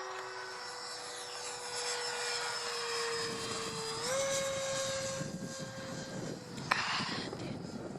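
An E-flite F-15 model RC jet passes overhead with a steady, whining turbine-like tone that rises in pitch as it sweeps across, loud and continuous throughout against light wind noise.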